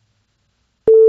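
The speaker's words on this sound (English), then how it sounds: "we get the buzzer sound like this" A washing machine simulator built on a PIC16F877A microcontroller sounds its door-open alarm: after near silence, a single steady electronic buzzer tone starts abruptly and holds loud to the end.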